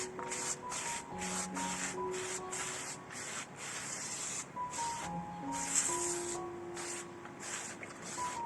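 A spray bottle mists water onto newspaper laid out for sowing wheatgrass seeds, giving a quick run of close, rhythmic spritzes over a soft tonal background.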